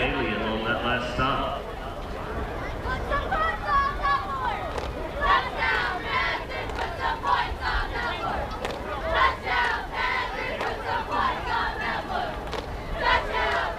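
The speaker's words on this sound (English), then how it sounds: "Not sure if you can hear the cheerleaders there, but they're cheering our Panthers on." Cheerleaders at a high school football game, rhythmic group chants shouted in unison from a distance over a murmuring crowd, sustained through the stretch with loose crowd noise underneath.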